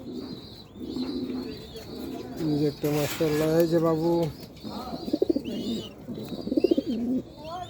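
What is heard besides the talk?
pigeon cooing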